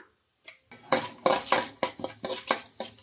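Chana dal, cumin and mustard seeds go into hot oil in a kadai, with a spoon clinking and scraping against the pan in quick, regular strokes close by, and no voices.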